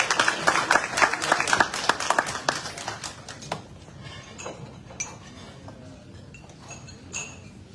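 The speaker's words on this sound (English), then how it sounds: "can everybody just give them another round of applause?" Dinner guests at a scholarship awards fundraiser applaud for the winners, dense clapping that thins into scattered claps and a few clinks of tableware, in a large room.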